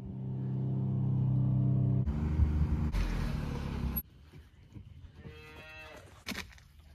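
A bottle-fed baby calf bawls in a long, loud, drawn-out moo that breaks into rough rasping, followed by quieter rumbling and a brief faint call near the end.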